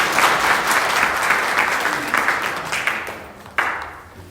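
Church congregation at a Sunday service applauding, a steady wash of clapping that stays loud and then thins out toward the end, with a sharp burst near the close before it fades.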